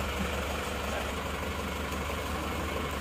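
A cold Isuzu Panther diesel engine idles steadily and close by, a dense, even rumble with no break or change in pitch for the few seconds heard.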